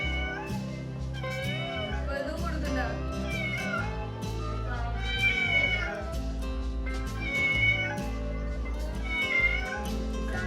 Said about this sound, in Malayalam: അതിൻ്റെ ഇടയിൽ കുട്ടികൾ ഒരു പൂച്ചേനെ കണ്ടുപിടിച്ചു